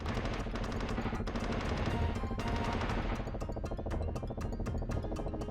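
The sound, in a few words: helicopter strafing gunfire in Urban/Jungle/Desert Strike video game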